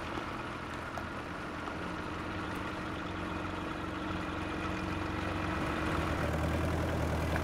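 A tractor engine idling steadily at close range, a continuous low diesel rumble and hum with no speech, near a clam field reached at low tide.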